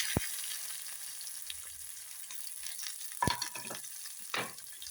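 Onions going into hot oil already crackling with mustard seeds, fenugreek and cumin, for a Kollam-style sardine peera dish: a low steady sizzle with a few sharp clinks and stirring scrapes near the start and middle.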